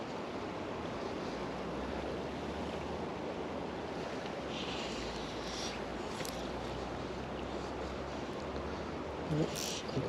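Wind gusts steadily by the River Doon during fly fishing, buffeting the microphone with a constant broad roar and low rumble, with a faint brief sound near the end.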